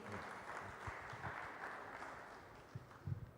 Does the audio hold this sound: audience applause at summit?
yes